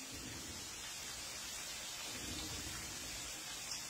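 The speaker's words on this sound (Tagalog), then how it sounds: "Malakas po ang bagyo." Heavy rain from a typhoon drums on a house roof as a faint, steady wash of hiss with scattered patter, continuous and without voices.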